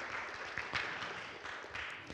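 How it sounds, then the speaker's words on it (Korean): An audience applauds at a democracy forum, a faint, distant patter of clapping that continues steadily for a couple of seconds. "많은 박수 부탁드리겠습니다."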